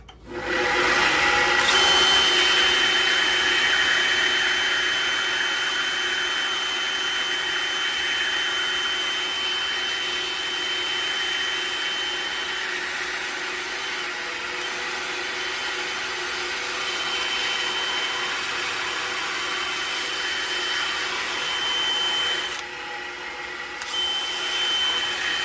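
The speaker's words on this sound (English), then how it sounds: "I'm dealing with some limited space with my disc sander right here" A disc sander in a workbench setting runs continuously while shaping a stag bead, giving a loud, steady whirring drone close by with slight shifts in pitch as the piece is pressed against it, then briefly dipping near the end.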